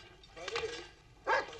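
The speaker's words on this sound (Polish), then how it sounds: "Pies na niego warczy." Dog growling and giving a short bark, a low rumbling growl followed by one sharp bark, close by, with speech mixed in.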